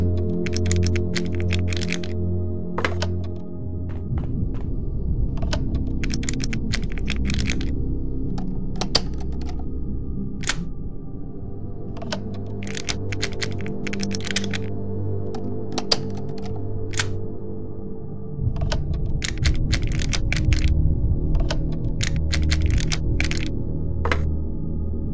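Lockpicking in the stealth game The Dark Mod: sharp metallic clicks and ticks scattered irregularly over a steady low mechanical hum, moderately loud with no talking.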